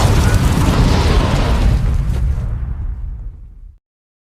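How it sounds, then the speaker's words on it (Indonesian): A suicide bomb explosion in a war film set in Afghanistan, a loud, close, roaring blast that fills the clip and then rumbles away into a fading tail before cutting off. "Salah satu dari mereka meledakkan diri"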